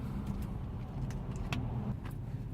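Cars and trucks drive over a bridge, a faint, continuous rumble of passing traffic at a distance, with no voices.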